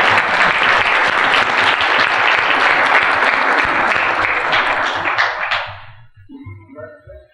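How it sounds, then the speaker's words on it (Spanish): Loud, dense applause from a crowd fills most of the stretch, holding steady before fading out over the last seconds into near quiet with a few stray sounds. "Aplausos."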